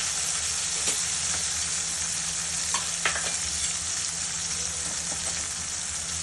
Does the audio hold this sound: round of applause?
no